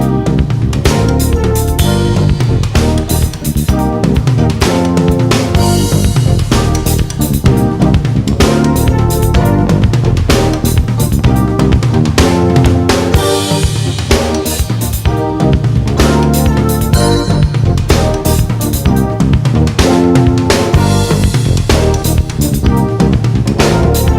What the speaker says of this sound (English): bring it over to the drums and orchestrate that pattern on the toms, the rim, cymbals